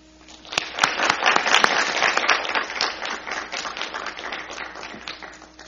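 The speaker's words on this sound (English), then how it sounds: "I ask you to demonstrate your appreciation by applauding the faculty seated" A crowd at a 2011 summer commencement ceremony applauds the faculty: loud, dense clapping that swells quickly and holds steady, slowly thinning toward the end.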